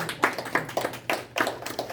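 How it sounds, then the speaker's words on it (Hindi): An audience claps at a senior community meet-and-greet, scattered and uneven hand claps coming in loose bursts, moderately close and fairly sparse. "दोनों संतानों के लिए ताली बजाइए।"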